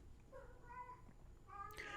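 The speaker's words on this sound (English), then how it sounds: "And I apologize about my cat here." A house cat gives two faint, drawn-out meows, one in the middle and a slightly louder one at the end, heard quietly in an indoor room.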